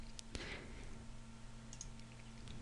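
Computer mouse clicks while building a benzene ring in chemistry drawing software, a few faint, sharp clicks near the start followed by quiet background hum.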